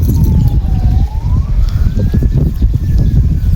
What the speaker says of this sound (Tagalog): Malalakas yung sumba nila mga kalitar, lalo na kung malakas yung hangin